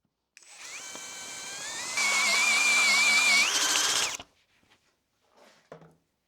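A cordless drill with an 11 mm bit recesses a washer, whining steadily, then rising in pitch and load as it bites in before cutting off abruptly, followed by faint clinks and handling noise.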